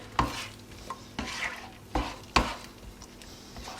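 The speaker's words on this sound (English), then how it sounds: "give it a quick stir so it doesn't stick at the bottom" Several scraping, tapping strokes of a utensil stirring eggs in a frying pan, four distinct sweeps with quiet kitchen hum between them.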